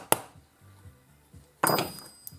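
A pin is driven into a Winchester 1873 rifle receiver: a few sharp metallic hammer taps, one early and a cluster later, with a quiet stretch in between.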